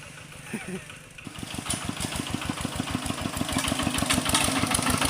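Tractor engine on a rice-hauling farm job starts up after a moment of quiet talk, then runs with a fast, steady chugging beat that grows louder and stays close.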